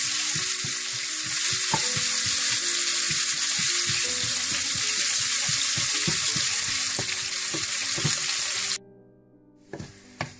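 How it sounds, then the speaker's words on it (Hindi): A bright, steady sizzle of onions frying in oil for pakora curry fills most of the clip, with scattered knocks and stirring sounds, then cuts off near the end. "फिर आप प्याज भी डाल लें इसमें और इनको हल्का ब्राउन कर लें।"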